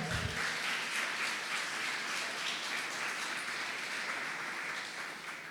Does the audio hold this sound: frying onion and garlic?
no